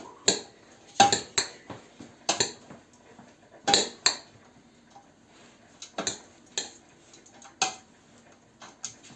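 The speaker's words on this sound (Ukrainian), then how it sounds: "Це все перемішуємо" Corn salad is mixed in a bowl with a utensil, producing repeated sharp clinks and taps at an uneven pace, close and fairly loud over a quiet background.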